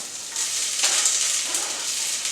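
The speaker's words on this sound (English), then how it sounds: "Let's pop that in. Oh, sizzle." Steady, bright sizzling of garlic frying in an overly hot pan, a continuous crackling hiss with small pops.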